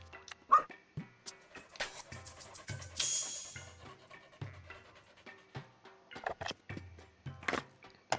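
A dog in a video game yips, barks and whimpers in short, close bursts while being petted, layered over steady game music and effects, with no talking.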